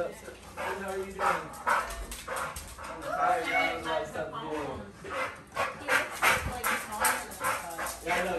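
A dog barks and whimpers with short yips at a family birthday party, heard under steady close talk and laughter.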